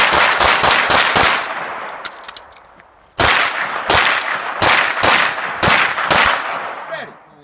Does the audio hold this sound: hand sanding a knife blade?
no